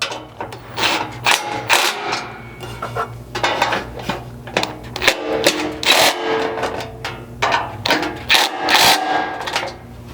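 Mounting bolts are tightened with a 7/32 hex key during an evap skid and slider install, giving close, irregular metallic clinks, scrapes and ratchety clicks in quick clusters.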